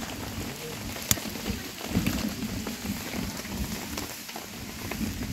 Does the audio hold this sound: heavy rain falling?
yes